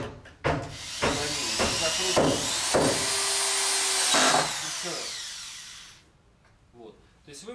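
A cordless screwdriver drives screws into nail-studded wood, giving a sustained motorized whir of about four seconds that then drops off, with talking around it.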